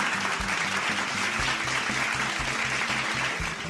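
The audience of a televised quiz show applauds the competing teams, a steady sustained clapping with a regular low thumping beat running beneath it.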